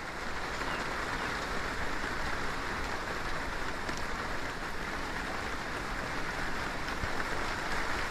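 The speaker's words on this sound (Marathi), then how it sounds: "हे बघा मस्त पाऊस पडत आहे बघा." Heavy monsoon rain pours down around a terrace overlooking green farmland in a village, a dense, constant roar of drops close by with no letup.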